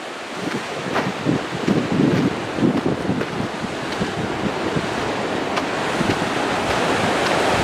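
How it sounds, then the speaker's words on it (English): Ocean waves surging against rocks along the Pebble Beach coastline in California, a steady roaring wash of surf with broken crashes early on, mixed with wind buffeting the microphone throughout. "The water just comes up, hits the rocks"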